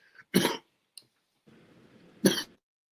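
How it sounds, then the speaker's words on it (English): Two harsh, close coughs separated by a quiet, breathy throat noise, with a short faint click in between. "I still have a pretty bad cough from this weather"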